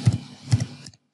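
A computer keyboard clacks as someone types a Google search, two quick clusters of keystrokes close to the microphone, each a short burst of two or three taps, before going silent.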